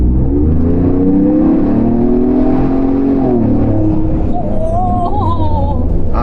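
A 2021 Ford Bronco with a turbocharged engine and a K&N cold air intake accelerates, its engine note climbing steadily with a rising whir and a shift near the end, loud and continuous from inside the vehicle.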